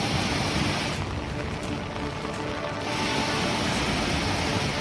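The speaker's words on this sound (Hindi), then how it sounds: "गिरते हुए पानी की गूंज बता रही है कि खतरा कितना बड़ा है।" A waterfall in flood at Mahad, Raigad, swollen by heavy monsoon rain, pours with a constant, dense roaring rush that barely changes throughout, with no voices heard.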